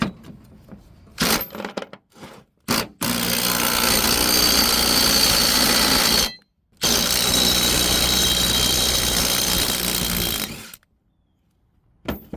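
Loud pneumatic impact wrench running in two long bursts of about three and four seconds, preceded by short rattling hits, removing a bolt from car suspension in a workshop; nobody talks.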